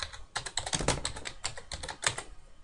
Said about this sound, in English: Then just type in court before